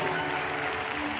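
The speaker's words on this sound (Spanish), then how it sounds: "aplausos bien fuertes para los chiquilines" A carnival audience applauds children on stage in a brief, dense burst of clapping that stays steady and fairly full throughout.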